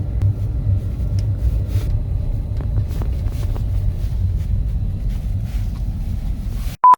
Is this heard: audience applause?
no